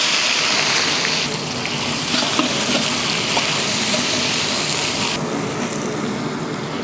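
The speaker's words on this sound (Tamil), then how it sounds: "லைட்டாக அந்த பச்சை வாடை போகிற வரைக்கும் வதக்கினா போதும்" Onions sautéing in hot oil with mustard seeds, urad dal and curry leaves for a large batch of sambar rice, a loud, continuous close sizzle with occasional stirring.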